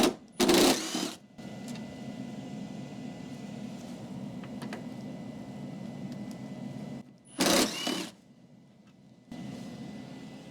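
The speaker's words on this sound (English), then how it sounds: "I'm going to use my impact just to save time" An impact wrench fires two short, loud bursts some seconds apart, removing 10 mm bolts during a Ram 1500 DT interior repair, with a steady background hum between the bursts.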